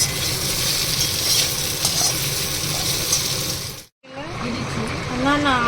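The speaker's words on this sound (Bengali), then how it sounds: "এখানে আমি লাস্টে ভাজছি পেঁপে আর সজনে ডাঁটাগুলো।" Papaya and drumstick pieces fry in a pan, a steady sizzle with some stirring clatter, cut by a short silence before frying resumes with faint voices in the background.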